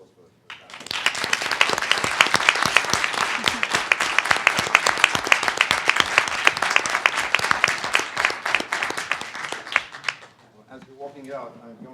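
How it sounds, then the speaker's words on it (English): An audience at a university symposium breaks into sustained, loud applause of many hands clapping for about ten seconds before it fades and a voice begins speaking. "Can I give a round of applause for that?"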